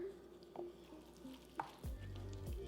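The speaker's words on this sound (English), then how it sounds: "the way you're supposed to stir in this vinegar is you're supposed to like cut the rice in half and flip it over" A paddle cuts and folds vinegar into cooked sushi rice, making faint, soft scraping and sticky stirring sounds close by in a quiet kitchen.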